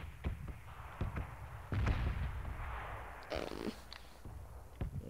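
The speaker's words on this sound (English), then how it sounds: "You hear which side those shots are coming from? They're explosives." Explosives and gunshots in a shooter video game crack out as scattered sharp bursts and booms at a moderate distance, some louder and closer, with irregular gaps between them.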